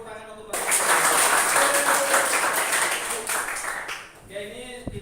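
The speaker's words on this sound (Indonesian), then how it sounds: "tepuk tangan untuk Bapak" Classroom applause breaks out suddenly, a fairly loud burst of many hands clapping that holds steady, mixed with voices, then dies away as talking resumes.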